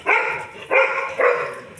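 A puppy gives three quick, close barks in a row, each sharp and short.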